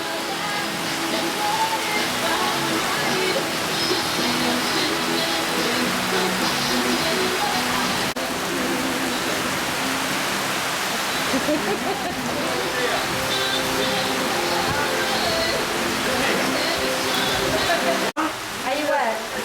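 Heavy rain pours steadily onto a street in Pokhara, Nepal, a dense, continuous hiss and splatter that stays loud and close throughout, with voices talking underneath it.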